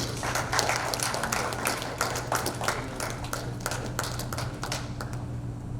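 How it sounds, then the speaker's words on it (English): Audience applause for an engineer after a speech at a Rising Sun outreach event in Boston, Massachusetts: a dense, steady roomful of hand clapping that keeps going without letting up. "Please, a round of applause for him."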